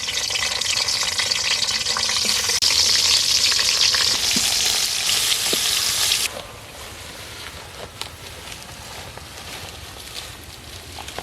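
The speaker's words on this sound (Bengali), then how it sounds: "বাকি বেগুনগুলো ভেজে নিচ্ছি।" Eggplant slices fry in hot oil with a loud, dense sizzle for about six seconds, then the sizzle drops to a quieter, steady crackle with scattered pops, no talking.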